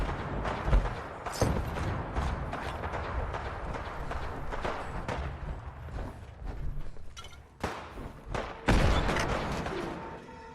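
Rapid gunfire rattles through a battle at Bunker Hill in Fallout, with bursts and single shots cracking in quick irregular clusters at close range, loud throughout with a few sharper peaks and no speech.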